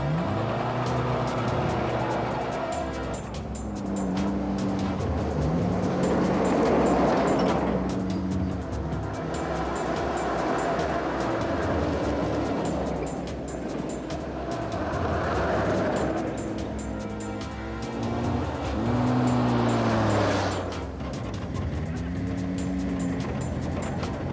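A car drives off as a TV drama sound effect, its engine swelling and fading in repeated revving passes under a background music score.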